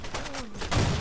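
Gunfire in the online shooter Blackshot during a competitive match: a loud burst of shots with a sharp impact near the end, spanning about a second.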